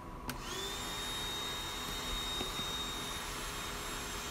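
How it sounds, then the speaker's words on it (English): A vacuum cleaner runs with a steady, even whine and hum during a media cabinet build, holding constant through the whole stretch with no voices. "it's probably time to switch on the old vacuum."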